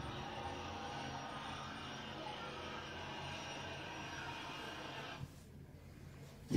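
A constant low roar of aircraft engines and rotor wash overhead, steady and fairly distant, then abruptly dropping away near the end.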